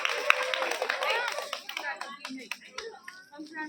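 A small crowd claps briefly for children receiving prizes at a school event. The clapping is fairly soft and scattered, and voices talk over it.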